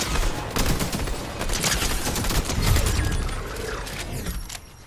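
Rapid bursts of automatic gunfire in a shooter game, close and loud, with overlapping volleys crackling continuously before tapering off near the end.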